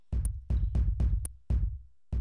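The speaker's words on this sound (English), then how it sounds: "So that little snare sound we're hearing is not actually a sample." Short percussive hits from an empty sample slot on a Novation Circuit groovebox, a snare-like sound repeated five times in an uneven pattern, each with a sharp attack and quick decay, loud and alone with no talking.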